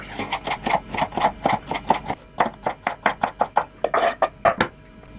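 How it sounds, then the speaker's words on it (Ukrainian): A knife chops washed, seeded bell peppers of two colours into thin strips on a board, a quick steady run of sharp close taps with a short pause partway through. "І нарізаємо ось так соломкою."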